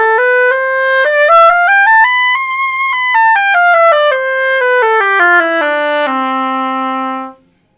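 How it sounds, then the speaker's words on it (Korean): An oboe plays a flowing solo melody of connected notes that rise and fall for about seven seconds, settling onto a long, low held note at the end, clear and close with no talking. "잠깐 오보에 소리를 한번 들려드릴게요."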